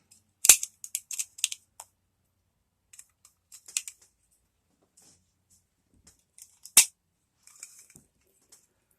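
Cartridges click into a 1911 pistol magazine, a scattered series of sharp metallic snaps, several clustered early and a loud one later, each close and crisp against near silence.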